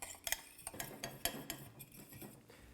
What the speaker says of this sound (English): And then stir this until it's kind of like a paste.